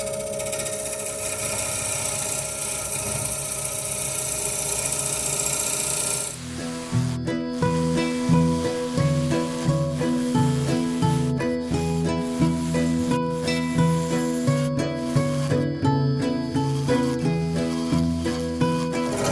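Wood lathe turning a tenon on a canary wood bowl blank, a steady close rasping scrape with rhythmic catches as the tool cuts, continuous and alone after a brief change in tone partway through.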